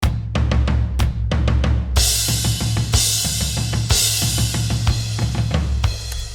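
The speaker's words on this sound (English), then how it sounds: "The drums sound like this." A drum kit plays a steady groove of punchy kick and snare hits with crisp hi-hats and cymbals, loud and close, with no talking.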